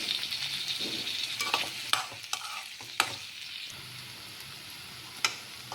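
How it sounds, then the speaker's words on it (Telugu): Half a spoon of ginger garlic paste fries in a pan, a close, steady sizzle broken by sharp scrapes and clinks of a stirring spoon, with no one talking. "అల్లం వెల్లుల్లి పేస్ట్ పచ్చి వాసన పోయే వరకు వేయించుకోవాలి."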